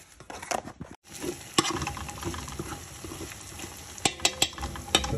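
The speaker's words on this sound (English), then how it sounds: "this is the onions going in" Onions tip into a hot pan and begin to fry, giving a steady close sizzle with a few sharp clatters and scrapes of a utensil against the pan.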